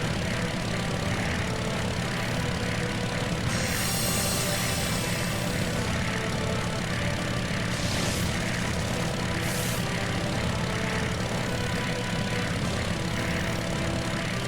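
A propeller airplane drones steadily in the PS2 flight game Sky Odyssey, a constant loud engine hum with a few brief whooshing bursts over the top and no talk.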